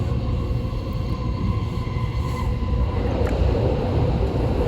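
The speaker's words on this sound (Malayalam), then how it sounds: "ബുള്ളറ്റ് ട്രെയിൻ ഇപ്പോൾ അവിടെ നിർത്തും." A bullet train in Japan slowing to a stop rumbles steadily close by, a broad low roar with faint rattling and a soft higher whine, no voices.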